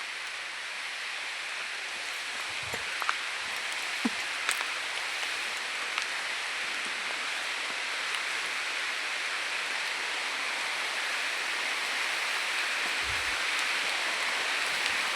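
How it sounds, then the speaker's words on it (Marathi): Heavy rain falls steadily in a wooded hill area near Kondana caves, a broad even wash of noise with occasional nearby knocks and drips. "पाऊस भरपूर होता."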